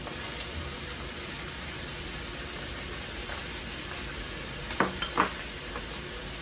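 Bell peppers in a small drizzle of oil sizzle steadily in a pan, a constant hissing crackle with a few louder scrapes and clinks from stirring near the end, close by and without talk.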